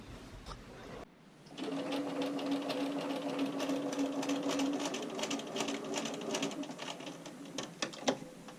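Sewing machine straight-stitching and understitching a bra seam, running steadily at close range for several seconds after a brief pause, its needle clattering rhythmically over a low motor hum.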